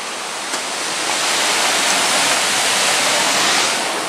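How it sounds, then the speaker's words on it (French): A small stream flowing right beside an abandoned forge site, a steady close rushing of water that swells slightly and holds as a dense, continuous wash. "Donc là on entend un bruit de ruisseau, puisqu'il y en a un juste à côté."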